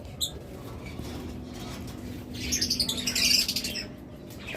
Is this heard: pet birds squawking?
yes